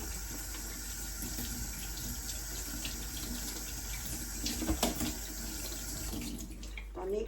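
Mushrooms being rinsed under a running kitchen tap, a steady splashing stream of water that continues throughout, with a brief clatter of handling near the end.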